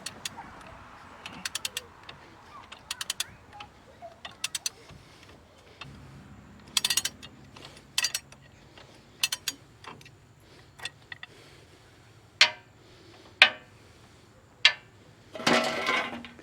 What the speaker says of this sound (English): This is a used Armstrong 14-906 1-inch drive ratchet.